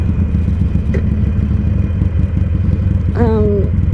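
A Harley-Davidson Iron 883 Sportster rides along with a continuous low engine rumble and wind noise, a faint voice-like tone briefly rising over it near the end.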